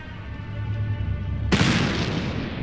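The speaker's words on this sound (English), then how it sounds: "Sounded like a gunshot." A sudden loud bang like a gunshot or firework rings out in the video game The Black Mirror 3, bursting over a low rumbling background and decaying slowly.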